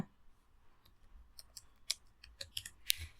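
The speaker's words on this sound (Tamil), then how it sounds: "மேஜிக் மீடியா அப்படின்ற டைப் பண்ணிக்கோங்க." Keys click on a computer keyboard as a short search term is typed into Canva, sparse faint taps at uneven intervals over quiet background, with no talking.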